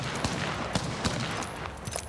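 Gunfire in the battle royale game Apex Legends during a tournament match, a dense crackling fusillade of overlapping shots, steady and fairly distant.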